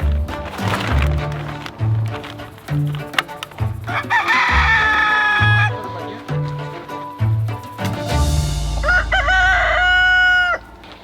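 Chickens cluck and a rooster crows loudly at a house whose extension is being demolished, the crow rising clear near the end, with a person talking amid the birds.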